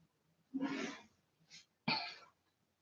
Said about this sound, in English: My poor husband is downstairs sneezing.